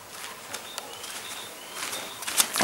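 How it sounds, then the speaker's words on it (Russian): Tits singing outdoors, thin high chirps and short whistled notes repeating at a distance, with a few louder calls near the end. "синицы пели"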